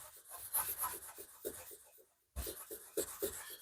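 Rhythmic rubbing strokes as chrome polish is worked by hand onto old, rusty chrome trim on an early E30 Euro valance, close and fairly quiet, with a short pause midway before the strokes resume.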